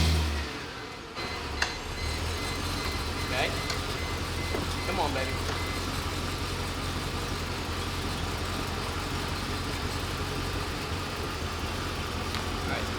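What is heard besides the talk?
Mercedes car engine starting and idling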